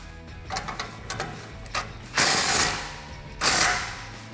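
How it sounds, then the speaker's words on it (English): A 15mm socket on a ratchet tightens an exhaust clamp on a Jeep Gladiator JT's Borla ATAK dual exhaust, giving a few close clicking ratchet strokes followed by two louder, longer bursts of grinding metal. "tighten this clamp down with our 15mm socket"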